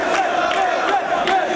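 Wrestling crowd in a Manhattan arena roaring steadily during a Ring of Honor match, a dense sustained mass of voices with faint rising swells, no clear speech on top.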